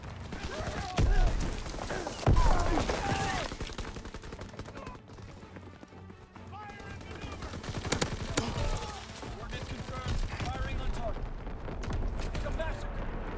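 Call of Duty match with rapid gunfire bursts and sharp blasts, including a grenade explosion, layered over game voice callouts and busy battlefield noise.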